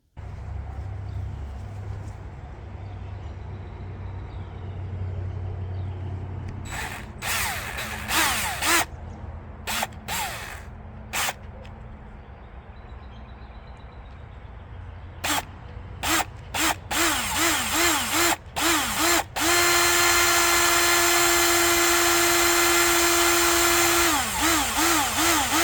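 Power drill boring holes through the sheet-metal hood of a Chevrolet C/10 truck, with several loud bursts of whining drilling separated by pauses, ending in a long sustained run, close and with no talking.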